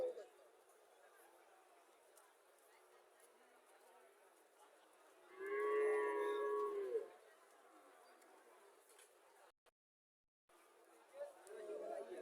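A Friesian dairy cow on a farm in Comilla gives one clear, drawn-out moo at moderate distance, set against a quiet background of faint chatter and insects.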